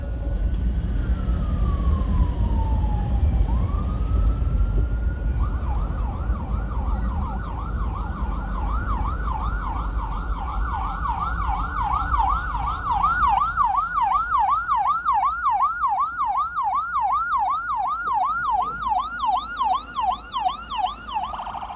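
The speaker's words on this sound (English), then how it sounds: "where's your siren?" An emergency vehicle siren sounds close by, starting with a single falling-and-rising sweep and then settling into a fast, repeated wailing yelp that carries on loudly over low road rumble.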